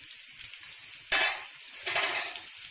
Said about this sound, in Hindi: ऑयल गर्म हो गया, इसमें मैंने जो आपको प्याज दिखाया था छोटा सा उसको ऐड कर दिया